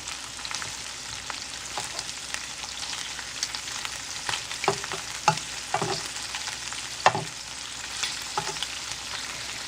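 Grated garlic and shrimp sizzle in a pan for a paella-style rice dish, a constant close frying hiss broken by sharp spoon scrapes and clicks as the food is stirred.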